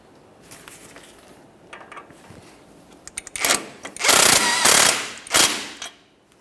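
A power tool spins the outer tie rod mounting nut on a 2004-2008 Ford F-150 steering knuckle, with a few short ratcheting bursts, then loud sustained runs and a final burst, close and alone.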